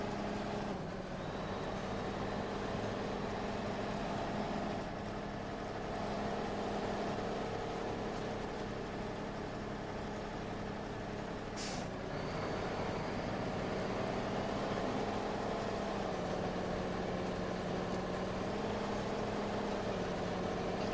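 A truck in the Snowrunner video game runs at a steady low engine drone, faint and continuous throughout with a slight swell midway, no voices over it.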